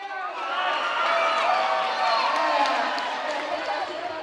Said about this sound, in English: The fans cheer as the timer counts down and the robots scurry around the 12x12 field